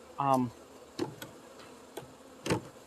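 A bee zips close by at a busy porch beehive in a short buzzing burst, followed by a few scattered light ticks and taps against a quiet background.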